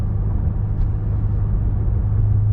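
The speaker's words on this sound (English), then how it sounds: "you can hear it inside the car." A steady low exhaust rumble and drone heard from inside a moving BMW M5 fitted with an AWE Track exhaust, constant and muffled, with no talking.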